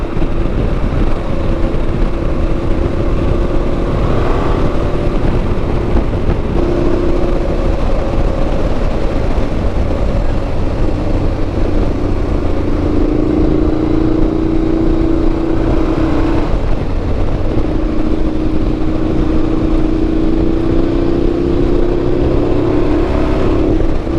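A 1995 Honda Africa Twin and a Ducati Multistrada ride on roads in Portugal, the engines droning loud and steady with rising and falling pitch under constant wind rush, no voices.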